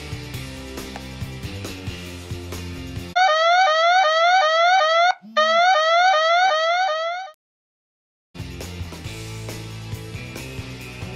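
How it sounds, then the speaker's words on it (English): A smartphone alarm triggered by lost signal from a Sea-Tags wristband sounds a loud, fast, repeating electronic warble for about four seconds. It breaks once briefly and cuts off into silence, with music before and after. "a loud alarm is activated and the latitude and longitude recorded"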